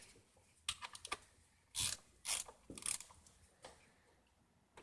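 A 10mm wrench works on the spark plugs of a Lexus/Toyota V6 engine, making a quick run of light metallic clicks and ratcheting taps up close, a few louder rattling bursts among them.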